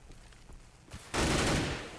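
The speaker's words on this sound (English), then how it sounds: "SK is fighting back with that good frag onto Mystic" Gunfire in Counter-Strike on the de_mirage map during a match, a quieter stretch of faint shots then an abrupt loud burst of rapid fire that holds for most of a second.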